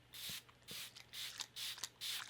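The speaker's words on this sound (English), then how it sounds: "I'm going to go in with the Smashbox Photo Finish Setting Spray" Five short hissing sprays of Smashbox Photo Finish Setting Spray in a steady rhythm, each a burst of fine mist about a third of a second long, close by with brief pauses between.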